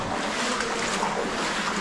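Water rushing through a narrow rock passage in Robbers Cave (Guchhupani) near Dehradun, a loud continuous wash of broadband noise with no pauses and no talk.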